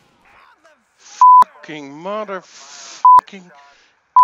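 Short phone beeps sound three times in the GTA IV game, loud and sharp, between a man's swearing.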